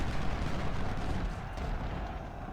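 Artillery fire in the Civil War strategy game Ultimate General: Civil War, dense rumbling booms and gunfire blending into a continuous loud barrage with no clear gaps.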